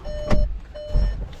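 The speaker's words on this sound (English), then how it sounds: "Every time you open the door with the engine running, that alarm goes off" Door-open warning alarm in a new car with the engine running: two sustained electronic tones sound over a low idling rumble, with a short gap between them.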